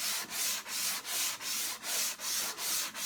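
Hand sanding a second layer of Bondo body filler on a vehicle panel, a close, even back-and-forth rasp in eight steady strokes with brief gaps at each turn, no voices.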